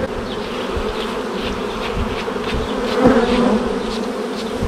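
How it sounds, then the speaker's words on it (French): Bees buzzing around a beekeeper, a loud, dense, continuous hum of many insects close by with individual bees passing near, and no talk. "Alors quand tu entends une abeille, tu sais qui ça commence à taper là"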